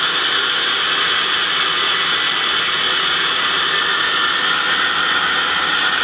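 A KSI SQC-38 CNC Swiss type lathe running at 3,000 RPM, heard up close as a loud, continuous, even whine and hiss with no pauses.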